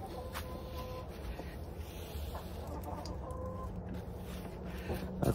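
Backyard chickens cluck and chatter at feeding time while eggs are gathered, soft clucks scattered throughout with a faint tonal hum and steady low background noise.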